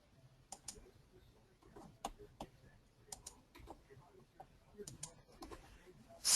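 A computer mouse clicks repeatedly while parts of a box design are selected and deleted, crisp close clicks in irregular bursts with a low voice murmuring faintly beneath.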